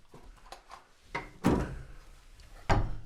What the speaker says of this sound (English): I am going to shut this door just a tad so I can